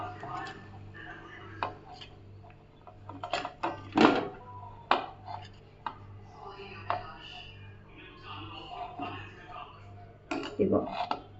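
Salted Marwari rice being served onto a plate, with scattered clinks and taps of a spoon against a dish, some louder knocks and scrapes, irregular and close, while someone talks throughout.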